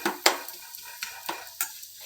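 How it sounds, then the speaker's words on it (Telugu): Spoon scraping and stirring masala in a pan while cooking kaju paneer masala, several sharp clinks and scrapes in an uneven rhythm over a faint sizzle, close up. "పచ్చివాసన పోయేంత వరకు ఇలా కలుపుతూ ఉండాలండి"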